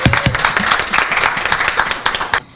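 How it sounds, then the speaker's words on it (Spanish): Close, loud clapping from a group of people cheering a car raffle winner, brisk and continuous before cutting off abruptly at the end. "A ver, un aplauso."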